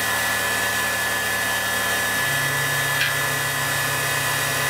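A Mikni 1610 CNC mill cuts a boat shape out of copper with a spindle turning around 10,000-20,000 RPM. It gives a steady, close whirring drone with a constant whine and a slight shift in pitch partway through.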